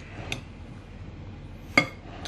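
A spoon stirring sugar into cherries in a bowl gives two faint, brief clinks against the bowl, separated by quiet, with no talking.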